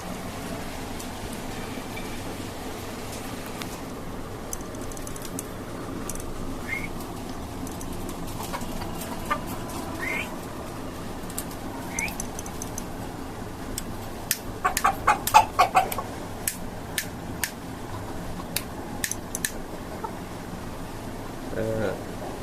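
Desi chickens and a rooster on a rooftop farm atop a five-storey house give faint scattered clucks and short calls, growing busier partway through, beneath someone talking.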